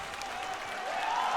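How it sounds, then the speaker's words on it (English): A Dota 2 tournament crowd at a StarSeries S3 2017 semifinal bursts into cheering and applause, a broad, somewhat distant roar that swells steadily over a brief moment. "ROTK getting a huge cheer from the crowd"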